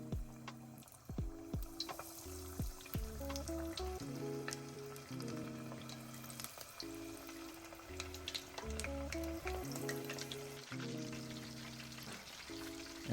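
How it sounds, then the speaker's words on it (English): Shrimp frying in hot vegetable oil, a close, steady sizzle and crackle of bubbling oil with scattered pops, while music plays underneath. "Now we start frying the shrimp for around 3 minutes or until golden brown"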